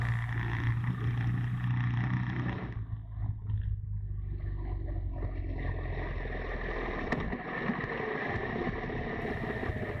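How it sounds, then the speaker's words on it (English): A big BMW GS motorcycle works through a tight hairpin on a country road, its engine a steady low rumble that drops back briefly mid-turn before building again with wind noise, no voices. "I'm fighting my big GS through the hairpin here"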